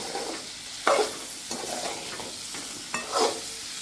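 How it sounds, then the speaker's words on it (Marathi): A raw mango and jaggery mixture is stir-fried in a pan, with soft sizzling under several distinct spoon scrapes and thuds, a few of them louder and sharper. "हे सग पूर्ण मिश्रण जो आपण टाकलेलं आहे त्याला व्यवस्थित परतून घेऊया"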